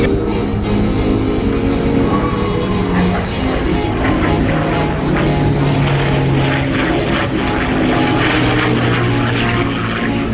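A P-51 Mustang World War II propeller fighter, the Lady B, drones loud and steady from its piston engine and airscrew throughout, a continuous close roar with no talk over it.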